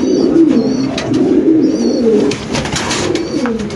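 Pigeons coo in low, rolling repeated calls close by, with faint higher chirps and some background rustle.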